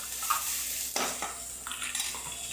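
Spices dropped into hot oil for tempering, a soft sizzle with scattered clinks and stirring scrapes against the pan, close and fairly quiet, no talking.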